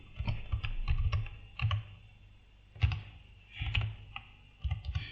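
Computer keyboard keys clicking in short bursts of rapid typing with brief pauses between, close and fairly quiet, as a file name is entered in the IntelliJ IDE.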